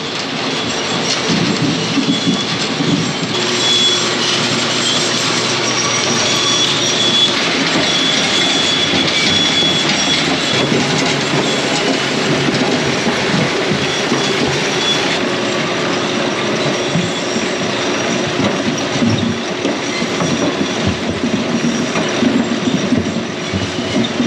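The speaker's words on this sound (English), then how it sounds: "we're now gonna just run some potatoes through the washer" Potatoes tumble steadily through a farm potato washer at harvest, a loud continuous mechanical rattle and clatter with a constant machine roar, unbroken throughout and with no voices.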